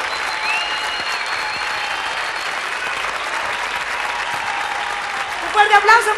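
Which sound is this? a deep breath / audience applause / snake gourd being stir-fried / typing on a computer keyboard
audience applause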